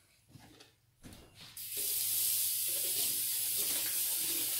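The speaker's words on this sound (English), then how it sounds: "So we're just going to add some water to displace that." Water pours from a tap into a turkey brine container, starting after a couple of soft knocks and then running as a steady, loud rushing hiss until the end.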